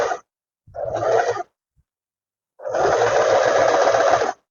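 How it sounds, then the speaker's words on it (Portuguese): A sewing machine stitches fabric slowly around a curve for a pants pattern, running in two short bursts and then one longer steady whir, close and clear with silent pauses between runs. "A gente costura mais devagar nessa parte."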